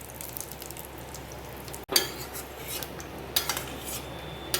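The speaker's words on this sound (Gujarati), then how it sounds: "આ કાઢીને હવે આપણે આમાં 1/4 કપ સોક કરેલા રાઈસ એડ કરી દઈશું। એ બી રોસ્ટ કરી લઈશું।" Soaked basmati rice roasting in a pan for kheer, quiet background frying with a sharp metallic clink and bursts of spoon scraping and stirring against the metal, close and intermittent; no voices.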